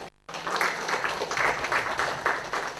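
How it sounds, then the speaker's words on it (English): A crowd at a Bengaluru meeting gives a round of applause after a brief silence, steady clapping with a few louder individual claps standing out, close and continuous. "can we have a round of applause for Gaurav Wadekar?"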